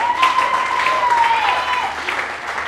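A church congregation applauds together, a dense, sustained wash of clapping over a held tone that fades slightly toward the end.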